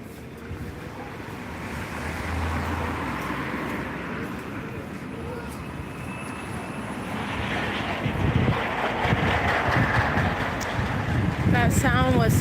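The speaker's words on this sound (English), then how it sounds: "That sound was somebody pushing like a rolling cart" A rolling cart pushed toward a supply truck makes a steady rough broadband rumble that grows louder and closer over the last few seconds, with background noise throughout.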